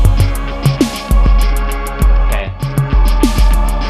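A loud programmed drum beat with thumping kicks, snappy hits and crisp ticking hi-hats in a steady groove; someone speaks a single brief word.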